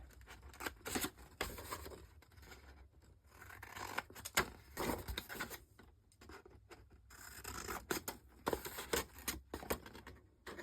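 Scissors cutting a section with four small squares out of a paper craft folio box template, a run of close, quiet snipping and rustling strokes with short pauses.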